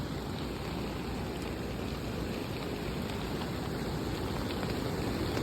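Steady rain falling during an approaching flood, a dense, continuous hiss and patter that stays loud and even throughout, with no voices.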